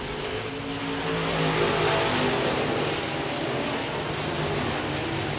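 Modified race cars roaring around the dirt oval at Hancock County Speedway, a dense continuous engine drone from several cars at distance, steady and loud with no talk.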